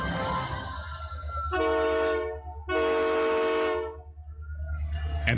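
A train pulling into Port Henry, Ontario, sounds two long, loud, steady blasts on its chorded horn over a deep rumbling engine drone, with a short gap between them and a third blast starting at the end.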